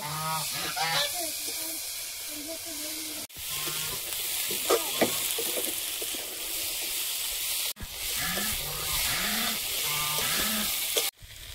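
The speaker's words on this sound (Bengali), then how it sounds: "এবার চুনো মাছটা দিয়ে দেব, দিয়ে একটু নেড়ে ছেড়ে নেব।" Small chuno fish frying in oil in a pan, a loud continuous sizzle broken by scraping stirring strokes, with a voice talking faintly over it at moments.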